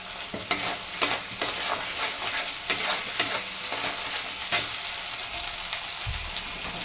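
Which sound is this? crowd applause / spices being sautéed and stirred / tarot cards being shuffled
spices being sautéed and stirred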